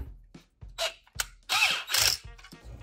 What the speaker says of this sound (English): I'm just gonna tighten that.